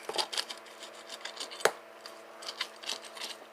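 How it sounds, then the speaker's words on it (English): A hand garden claw scrapes and rakes through potting soil around the roots of a large euphorbia, giving a series of close, dry scratching strokes with one sharper crunch midway. "I'm taking this claw and just kind of doing this and loosening around the roots"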